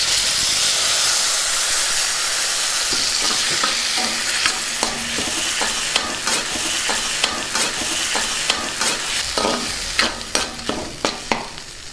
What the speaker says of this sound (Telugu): స్టవ్ కట్టేసుకొని ముందుగా నూరుకొని సిద్ధం చేసుకున్న టమాటో చట్నీని ఇందులో వేసుకుందాం